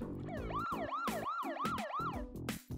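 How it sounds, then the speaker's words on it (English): An ambulance siren sound effect, a loud rapid wailing yelp rising and falling in quick repeated cycles, close and alone. "Ambulance."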